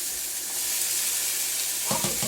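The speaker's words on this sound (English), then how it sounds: "And then here, we'll do another cup of onions." A cup of onions sautéing on a stovetop, a steady close sizzle and crackle, with a brief clatter of stirring near the end.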